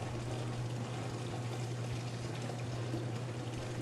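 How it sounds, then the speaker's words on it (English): Rinse water drains steadily from the door spout of a Taylor C712/C713 soft-serve freezer, a continuous close splashing rush over a low machine hum. "Drain all the rinse water from the door spout."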